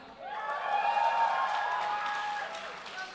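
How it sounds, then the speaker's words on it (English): Crowd noise rising for team LCF at a grand finale event, a sustained wash of cheering voices and whoops lasting a few seconds, loud and steady before tapering off. "the crowd is gonna make noise"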